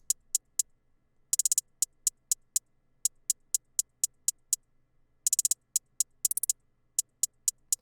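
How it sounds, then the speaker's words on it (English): Sparse hi-hat pattern from a hyperpop beat: evenly spaced crisp ticks in a two-step rhythm with short gaps, broken by brief quick rolls, played alone and fairly quiet. "now we're gonna move on to the drum patterns, starting with the hi-hat."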